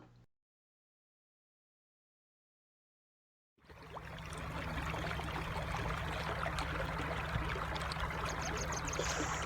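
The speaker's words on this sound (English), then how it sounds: "listened to the soothing sound of the river" A river flowing past a campsite in Faith Valley, California, a steady soft rushing and trickling of water that begins after a few seconds of near silence and holds at an even level.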